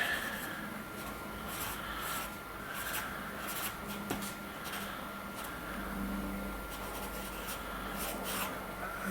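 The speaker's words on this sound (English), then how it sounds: "So I'm just going to write crossing supervisor in." A pen scratches words onto paper in short strokes and pauses, quiet and close, with soft rubbing between strokes.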